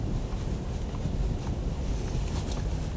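Blizzard wind of 40 to 60 mph blows through Point Lookout, New York, roaring and buffeting hard against the microphone in a dense, unbroken low rumble.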